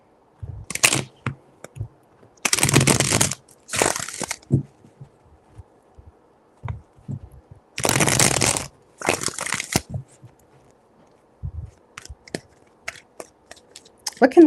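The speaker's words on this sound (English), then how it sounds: "3 shuffles." Tarot cards being shuffled in three distinct bursts of dense riffling and flapping, close and fairly loud, separated by quieter handling taps and small card slaps.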